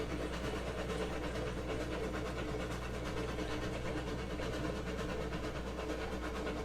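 Train from the Railroads Online video game rolling steadily along the rails, heard from inside the car as a continuous low rumble with faint rhythmic clatter, no talk.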